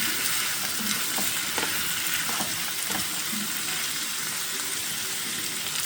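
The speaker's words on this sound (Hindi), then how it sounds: "अदरक और लहसुन अच्छी तरीके से फ्राई हो चुके हैं गोश्त के साथ" Mutton sizzles and fries with ginger and garlic in a pan, a steady crackling hiss with occasional clinks of stirring, close and continuous with no talking.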